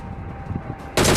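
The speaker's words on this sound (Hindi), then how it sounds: "पीछे से मेरे को फायरिंग की साउंड आती है" A loud, close burst of automatic gunfire comes from behind the player in a battle royale video game, cutting in abruptly near the end after a quieter stretch.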